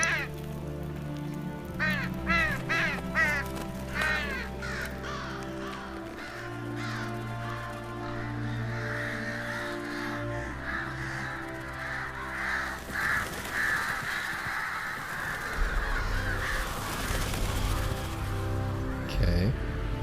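Crows in The Witcher 3: Wild Hunt, heard as a cluster of harsh repeated caws early on and again later, with sparse game music and ambience underneath.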